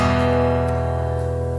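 Guitar strum across the bottom three strings of a chord, a single sustained ringing chord that slowly decays, up close and alone.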